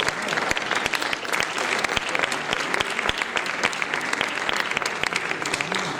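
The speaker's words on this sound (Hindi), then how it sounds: "लगातार आप तालियां प्रस्तुत करते रहे" An audience at a classical dance memorial event keeps clapping for the performers being honoured, a steady crowd of many hands with sharper individual claps standing out, sustained and close for the whole stretch.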